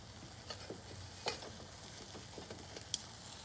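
Half-pound burgers sear over charcoal on a modified Weber Smokey Joe grill, giving a soft, steady sizzle with scattered faint pops and ticks heard from a little distance.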